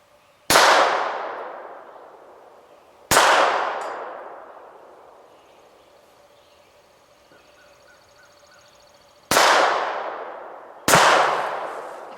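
Four loud metallic clangs from shots fired with an old, long-unused gun striking a steel target, each ringing out and decaying slowly, spaced irregularly with a long quiet gap in the middle.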